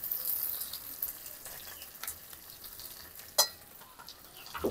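Ground spices, dried chilli paste, salt and coriander powder fry in a clay pot for mutton curry, a faint soft crackling sizzle with occasional stirring knocks and one sharper clack.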